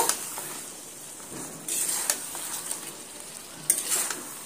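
Fried rui fish is stirred gently into spice masala in a pan, soft scraping and light sizzling with a few louder clinks of the utensil against the pan, close and moderately quiet.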